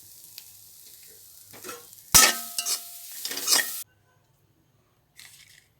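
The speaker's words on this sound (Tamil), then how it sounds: "மீதி இருக்க தேங்காயும் போட்டு வறுத்து வச்சுக்கலாம்" Grated coconut roasting in a dry pan, with a quiet scrape or two, then a loud burst of stirring and scraping with a light sizzle for under two seconds before the sound cuts off to near silence.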